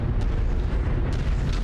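Heavy explosions from an aerial bombardment strike tanks in the MechWarrior 5 video game, a dense rumbling blast that stays loud for the whole moment with no voices.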